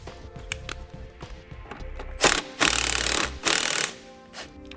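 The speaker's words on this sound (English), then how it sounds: "You'll need to remove the nut with a 15mm socket" A 15mm socket turns a nut off a battery terminal on a 2015 Ford Transit, giving bursts of loud mechanical ratcheting and clattering with short pauses between, close by, with no talk.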